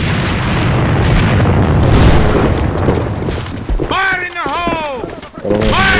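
A grenade blast in the AVA online shooter rumbles loud and broad amid noisy gameplay for the first few seconds, then fades as players talk over it.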